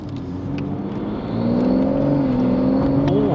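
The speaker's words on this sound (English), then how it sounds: "it's turbo wastegate, open and closing, like a dump valve in the system." BMW M140i turbocharged engine with a wastegate opening and closing, heard as a steady close whirring hum that swells louder about halfway through, with shifting tones near the end and no voices.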